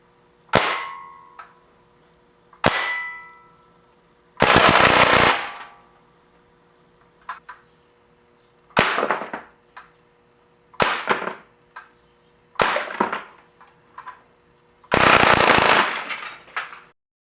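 An Umarex Legends M1A1 air rifle, a Thompson submachine gun replica, fires in sharp cracks and short full-auto bursts separated by quiet gaps, with faint metallic clicks and clanks between shots, close and loud.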